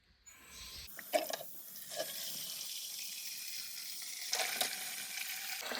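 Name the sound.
water being dumped out of a pail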